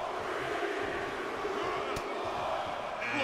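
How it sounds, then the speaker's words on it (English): A dense, steady crowd roar fills the arena during a Royal Rumble match in the WWE 2K22 wrestling video game, with one sharp impact about midway through. "Just listen to the crowd!"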